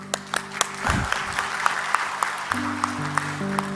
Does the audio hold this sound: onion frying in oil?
no